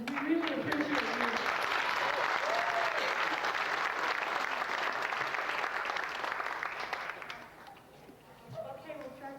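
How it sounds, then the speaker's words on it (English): An audience applauding, a dense roll of clapping that carries strongly for several seconds and then thins and fades toward the end, with voices mixed in. "I think you all should give yourselves a round of applause right now"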